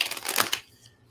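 Tarot cards are shuffled in a quick, close flurry of papery riffling that lasts about half a second and then falls away to quiet room tone.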